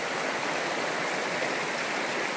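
A river in Big Bend National Park rushes steadily beside a hot spring, a dense, continuous wash of flowing water that stays loud and close from start to finish.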